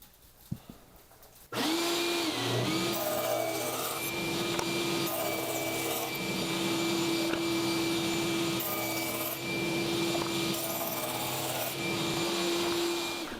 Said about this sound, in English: let's cut some dados and make some noise